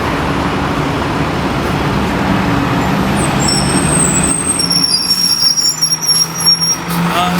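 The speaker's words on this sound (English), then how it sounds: "This is the bus stop for 100 number bus and also 25 number bus." Loud roadside traffic at a bus stop, a broad rumbling engine drone from passing heavy vehicles that thins out partway through, with high hissing and squealing tones like air brakes near the end.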